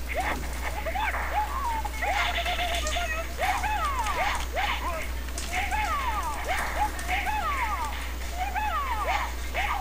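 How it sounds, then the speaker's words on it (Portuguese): Steady rain patters outside, heard from inside a room, as a soft continuous hiss over a low hum while people talk throughout. "Eu não teria esse problema da chuva."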